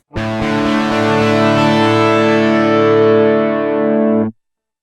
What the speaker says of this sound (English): Distortion 1.